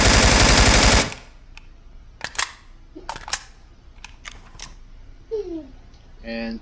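An AK rifle fired from the prone position: a loud, dense burst of rapid shots for about a second, then scattered softer cracks and clicks at irregular intervals.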